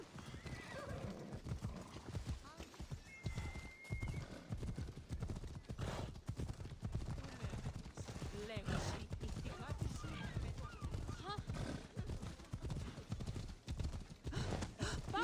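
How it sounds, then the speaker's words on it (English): A horse in the video game Assassin's Creed Odyssey gallops with a continuous, rapid clip-clop of hooves and neighs now and then, while a person talks over it. "Come on, horse."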